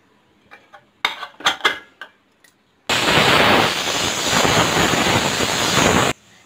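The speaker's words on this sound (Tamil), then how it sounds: "இப்போ நான் கேரட்லாம் நறுக்கிட்டேன்" A knife chops carrots for juice with a handful of sharp knocks on a board, then a loud, steady mechanical whirr starts abruptly and runs for about three seconds before cutting off.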